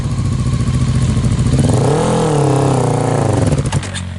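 Loud, close quad bike engine revving, rising in pitch in the middle and then dropping back, with rattling mechanical clatter throughout.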